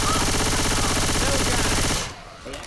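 Rapid automatic gunfire from Left 4 Dead 2 rattles loud and continuous for about two seconds, then cuts to a quieter lull with a faint blip near the end.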